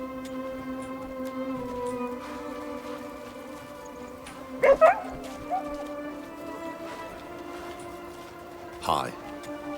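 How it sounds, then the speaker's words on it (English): In the video game Crimson Desert, a dog gives a couple of quick yips and whimpers midway and again near the end, heard over a steady background music drone and a voice talking. "is that a dog with a name?"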